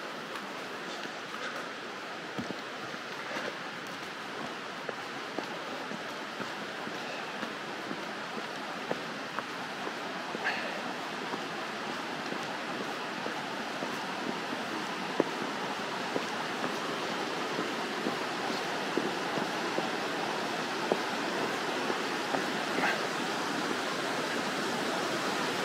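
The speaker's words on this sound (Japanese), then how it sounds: "滝が流れています。" Waterfall pouring steadily at a snowy mountain shrine on Mount Haguro, a continuous broadband rush of falling water close by, with no voices.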